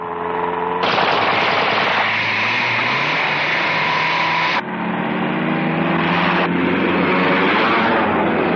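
Rapid bursts of automatic gunfire aimed at a car's wheels, loud and continuous in long sustained volleys with brief breaks, over a vehicle engine roar.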